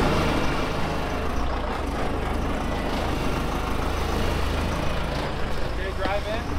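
A heavy vehicle engine, truck-like, runs with a loud, steady, close rumble and clatter throughout, a dense continuous drone with voices talking beneath it.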